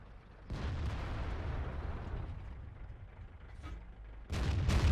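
A 107mm tank cannon in World of Tanks fires with a heavy, booming report, followed by a rumbling tail and a second loud blast near the end, with no voices.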